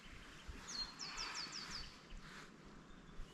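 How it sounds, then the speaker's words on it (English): Cockatoos call in the bush near a wild river, a quick run of about six sharp, high chirps in the middle of the clip, faint and fairly distant over soft breeze and insect hum. "Cockatoos are going ham, eh?"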